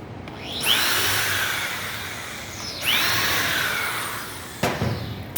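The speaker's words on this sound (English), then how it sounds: "we'll just keep drilling" A power drill bores holes in wood for a tool caddy, two long whining drill runs with rising pitch at each start, then a short burst near the end, close and loud.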